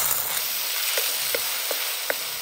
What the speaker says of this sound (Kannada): ಚಂದ ಮಾಡಿ ಫ್ರೈ ಮಾಡುವ